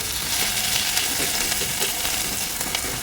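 Onion with green chilies frying lightly in a pan, a steady soft sizzle with faint stirring scrapes and crackles.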